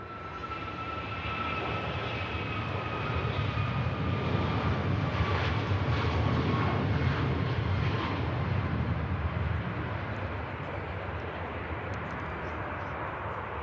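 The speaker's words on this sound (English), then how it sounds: "Ryanair heads out." A Ryanair jet departs Manchester Airport, its engine roar swelling into a loud, broad rumble that holds for several seconds and then eases slightly as it heads away.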